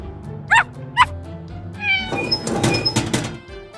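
A cartoon kitten in a children's animated show gives two short, close meows, followed by a busier stretch of light musical or effect sounds.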